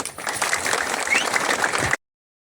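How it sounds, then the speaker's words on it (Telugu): A crowd applauds at a ward members' oath-taking ceremony, with dense, loud clapping that carries on steadily for about two seconds, then stops abruptly. "క్లాప్స్"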